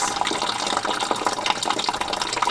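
Coolant drains from the engine of an Audi TT 225 during a head gasket job, giving a close, steady splashing and trickling of liquid throughout with no talk.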